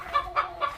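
Hens cluck in three quick close calls as they are let out of their coop at home, with no talk over them.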